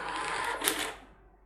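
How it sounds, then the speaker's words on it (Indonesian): A restaurant cashier's receipt printer prints a payment receipt in a short buzzing, whirring run that ends with a quick tear-like click, close and moderately loud, then fades to quiet. "printer pun kembali mencetak struk pembayaran"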